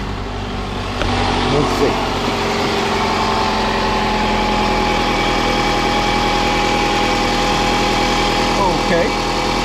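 A Toyota RAV4 engine starts and settles into a steady idle, its low hum continuous and fairly close, while a person talks over it near the beginning.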